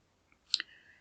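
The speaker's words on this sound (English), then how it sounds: "So I'm clicking on my little box" A couple of quick, quiet computer mouse clicks close by, two sharp taps a fraction of a second apart over near silence.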